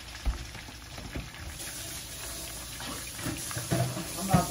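Hot water from boiled spaghetti noodles pours into a strainer, a soft continuous splashing and rushing with a few louder clunks near the start and end.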